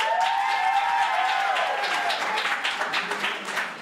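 An improv comedy theater audience claps and cheers at ImprovBroadway, a dense, close burst of applause with a brief voice over the start, thinning slightly as it tails off.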